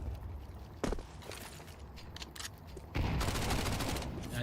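Pistol fire in a pistols-only round of Counter-Strike on the Mirage map: a sharp shot, scattered reports, then a dense, loud flurry of rapid gunfire at the end, with faint footsteps between.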